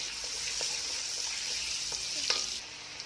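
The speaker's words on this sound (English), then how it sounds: "So I'm just going to fry it for about 2 to 3 minutes." White onion fries in a pan with a steady, close hiss and sizzle that carries through, broken by a few faint clicks of stirring and fading slightly near the end.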